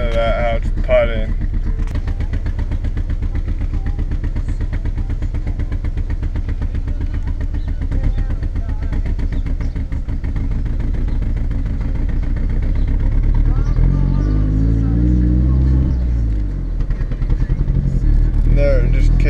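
A Chevy Colorado engine with throttle-body reduced-power trouble idles and sputters unevenly at an intersection, a steady loud drone from inside the cab that rises toward the end.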